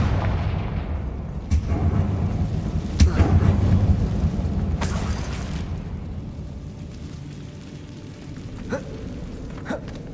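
A Confringo fire spell exploding in Hogwarts Legacy inside a closed mine tunnel, a few deep booming blasts with rumbling tails and a sharp crack, loud and close, no one speaking.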